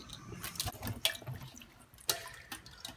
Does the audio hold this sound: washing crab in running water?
yes